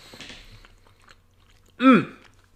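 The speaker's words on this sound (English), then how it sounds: "If you hear me chewing, I apologize." Close-up chewing and crunching of breakfast cereal with peanuts, quiet mouth sounds early then one loud crunchy bite near the microphone, with no talking.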